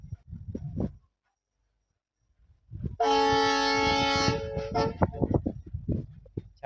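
A Gandhigram (Ahmedabad) to Botad passenger train sounds one long, loud horn blast lasting over a second, framed by rumbling and clattering of the moving train before and after a short quiet gap.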